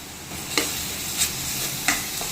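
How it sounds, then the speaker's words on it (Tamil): Ginger garlic paste fries with onions in a pan, a steady soft sizzle broken by a few sharp scrapes of a spoon stirring, close and without talk. "இப்போ இடித்து வச்சுருக்கிற இஞ்சி பூண்டு பேஸ்ட்டை இது கூட ஆட் பண்ணி நல்லா கிளறிக்கலாம்"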